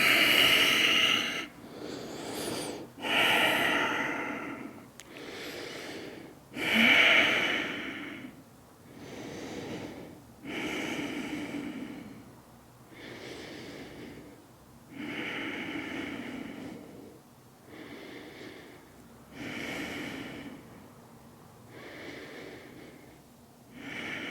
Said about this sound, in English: Take a deep inhale and exhale, forward fold.